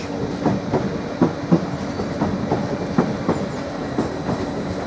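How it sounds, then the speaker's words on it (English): Class 745 electric train pulling away from a station platform toward Norwich, wheels giving a steady clickety-clack of rhythmic clicks over a continuous rolling rumble, with a faint high whine throughout. "We've got 745109 departing our platform 4, continuing its journey to Norwich"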